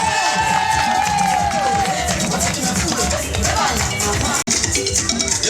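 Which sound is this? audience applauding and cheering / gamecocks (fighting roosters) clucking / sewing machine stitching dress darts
audience applauding and cheering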